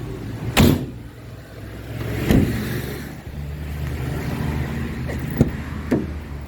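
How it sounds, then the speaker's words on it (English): Traffic on a busy road rumbles steadily, with several vehicles swooshing past near a parked Vivaro van, broadband whooshes rising and fading over a constant low drone. "Sorry for the road noise, it's a little bit noisy and busy today."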